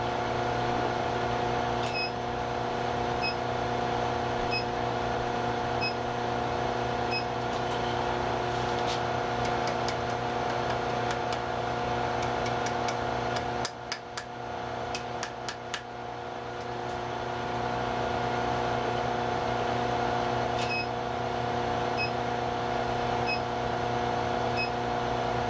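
An induction heater bringing small steel stock to forge-welding heat for a wheat twist, a loud steady electrical hum with tonal whine throughout, punctuated by faint periodic beeps and a cluster of sharp ticks midway.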